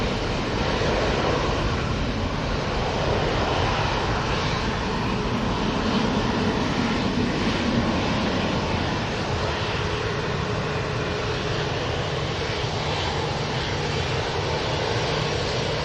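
A Ryanair jet departs Manchester at full takeoff thrust, its engines producing a dense, continuous roar that stays loud and even for the whole stretch, with no voices over it.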